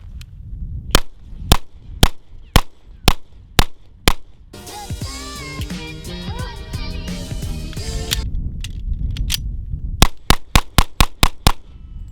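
A 1911 pistol fired in rapid strings: a steady run of about eight sharp, loud shots, then a burst of overlapping noise and movement, then another quick string of about six close shots.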